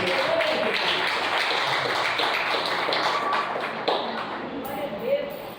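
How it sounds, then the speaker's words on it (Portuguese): A congregation applauds the Lord in a church, sustained dense clapping filling the room at steady loudness for several seconds, with voices mixed underneath. "Tome seu assento, querido, aplaudindo ao Senhor. Aplauda Jesus."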